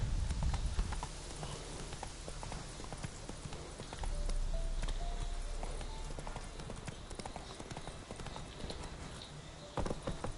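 Roach, the horse from The Witcher 3, trots with steady close hoof clip-clops over a busy game background, a louder rumble rising midway and a brief thump near the end.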